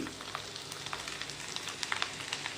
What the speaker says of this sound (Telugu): జీడిపప్పులు వేసి ఫ్రై చేసుకుందాం